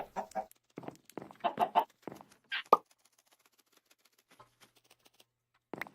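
Chickens in the video game Minecraft cluck in quick bursts of short clucks up front, then go quiet before one last cluck near the end.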